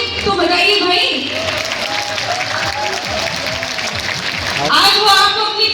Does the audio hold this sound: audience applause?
yes